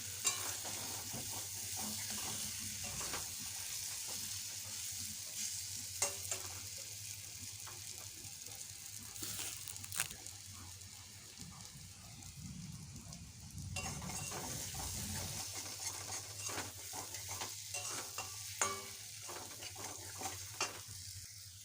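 Water is poured into a pan of meat-style egg curry, setting off sizzling and bubbling with stirring and clinks of a utensil against the pot, close and fairly quiet throughout.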